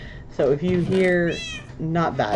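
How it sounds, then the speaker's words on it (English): A cat meows twice amid a person speaking, the mews rising and falling in pitch, close and clear, overlapping the talk. "that's the Minecraft cat"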